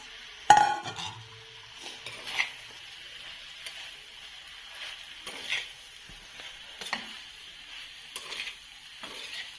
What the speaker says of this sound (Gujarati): આવી રીતે સરખી રીતે મિક્સ કરી લેશું, બ્રેડના ટુકડા તૂટે નહીં ને એ રીતે